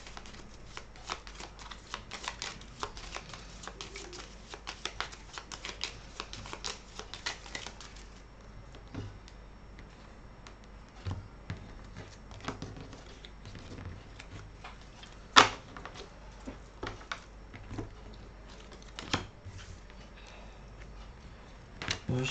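Cartomancy cards are shuffled and drawn for a reading: a dense run of quick papery riffles and taps up close, thinning into sparser clicks and single card snaps, with no speech.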